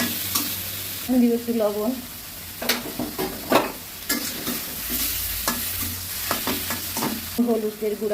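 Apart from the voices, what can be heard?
sautéing spice paste in a pan for pointed gourd prawn korma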